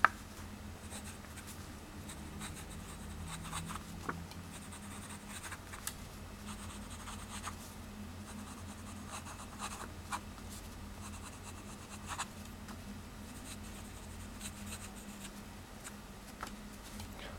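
A Kaigelu 356 fountain pen, used unposted, moves across paper with a faint, steady scratching that holds evenly throughout, broken only by a few light ticks of the nib, with no voices.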